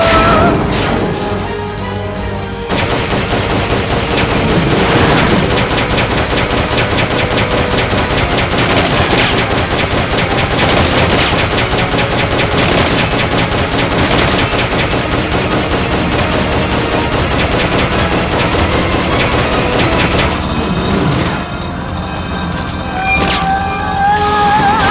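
Turret machine gun fire in Metal Gear Solid Peace Walker, a dense sustained barrage mixed with booms and game music, loud and continuous for most of the stretch before easing near the end.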